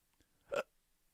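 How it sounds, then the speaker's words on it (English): A single short hiccup, close and fairly quiet, lasting a fraction of a second against a near-silent background with no talk. "Now I have the hiccups."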